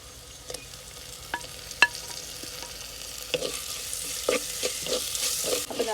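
Onions and tomatoes frying in coconut oil in a clay pan give a soft, steady sizzle with scattered stirring clicks and scrapes that build slightly louder toward the end.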